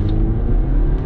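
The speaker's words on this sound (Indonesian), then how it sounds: "Dari kecepatan rendah kita gas." A 2023 BMW 320i LCI revs hard as it accelerates from low speed in Sport mode, a loud, steady engine roar close by with rising intensity throughout and no talk.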